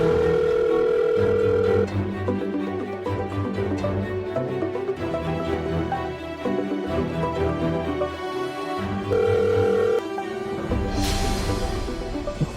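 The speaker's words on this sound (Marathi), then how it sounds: "हा मी आधी त्यांना फोन करते." A telephone rings through the handset while a call is placed in a Marathi TV serial, with steady tones and repeated ring bursts, loud and close with no talk, ending in a brief burst of noise.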